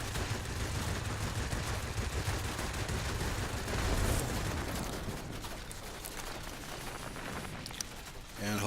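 Machine guns on an IL-2 attack aircraft in the combat flight game World of Warplanes, rattling in dense, sustained bursts over a droning engine, with a heavier blast partway through.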